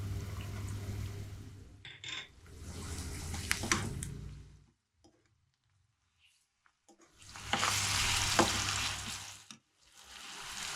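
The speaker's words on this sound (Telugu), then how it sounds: "ఈ టైంలో మనము అల్లం వెల్లిగడ్డ వేసేయచ్చు." Ginger and garlic fry in a pan, sizzling loudly in two bursts that drop to near silence in between, with stirring clatter and no voices.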